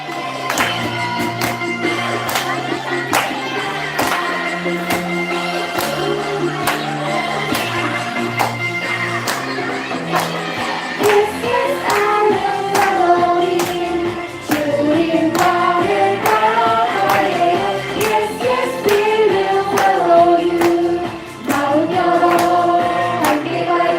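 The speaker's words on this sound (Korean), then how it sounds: "박수 치면서 찬양할게요." Children at a Sunday school worship service clap along while singing a praise song, a steady rhythmic pattern of hand claps woven through loud singing and accompaniment that continue from start to finish.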